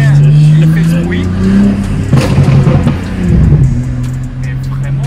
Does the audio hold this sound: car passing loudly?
yes